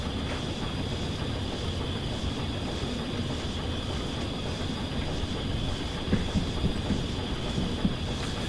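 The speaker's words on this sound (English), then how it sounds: "we're getting West Somerset and 2 diesels, a Gronk and a 47" Two diesel locomotives pass on a railway, a Gronk shunter and a Class 47. The result is a steady, broad rumble and hiss of rail traffic, with faint clicks toward the end and no voices.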